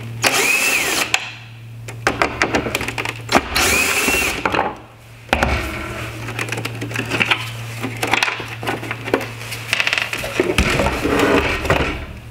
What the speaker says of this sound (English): I'm going to go ahead and remove these two screws to detach the bezel from the housing.